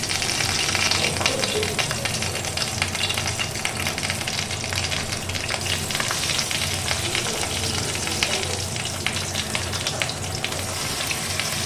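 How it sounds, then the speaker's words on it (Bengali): Prawn paturi parcels wrapped in ash gourd leaves fry in hot mustard oil in a non-stick pan, giving a loud, steady, crackling sizzle that never lets up, with no talking. "আমাদের কড়াইতে ননস্টিক প্যানে ওদের আমি সর্ষের তেল দিয়ে দিয়েছি তেলটা গরম হয়ে গেছে এবার আমি আস্তে করে এটাকে ছেড়ে দিচ্ছি"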